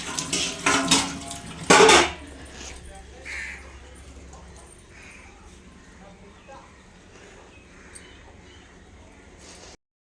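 Masala is stirred into goat head curry in a cooking pot: a few loud metal scrapes and clanks of a spoon against the pot in the first two seconds, then only a faint, quiet background.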